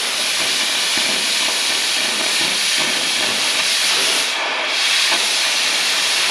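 A gas cutting torch with a partly plugged tip gives a steady, loud, broadband hiss that runs unbroken throughout, with only a brief dip in the upper range partway through.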